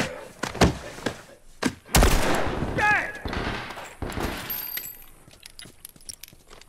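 Gunfire in The Last of Us Remastered, with several sharp shots, one heavy burst and scattered impacts spread across the clip, and people talking over the action.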